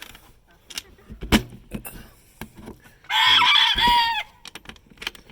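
Silkie and Cochin bantam chickens cluck and scratch nearby with scattered clicks, then one bird lets out a loud, drawn-out squawking call lasting about a second.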